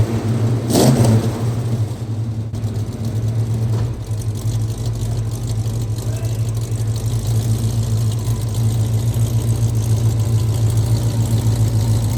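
A 1970 Dodge Dart Swinger's engine runs loudly and close, holding a rough steady idle with a brief rev near the start, its low rumble constant throughout with no voices.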